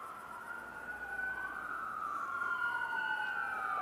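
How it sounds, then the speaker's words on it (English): An ambulance siren wailing down a road, its rising and falling tone sweeping steadily and growing slightly louder as it approaches, heard from a distance over faint outdoor background noise. "Down the road comes an ambulance."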